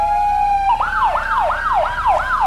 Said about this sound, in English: the ambulance from the St. John District Hospital